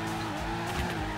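A car in the Torque Drift racing game, running without its front bumper, slides with a steady engine drone and tire skid noise, loud and continuous with no talk.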